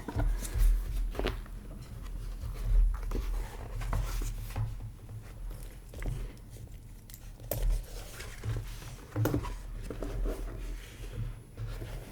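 A pencil scratches and taps on paper to imitate page sounds during an ASMR-style reading, soft and close with small irregular strokes and rustles over a quiet background.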